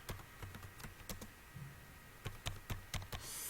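Keys tapped on a computer keyboard while writing C code, a quiet, uneven run of distinct clicks with short pauses between bursts.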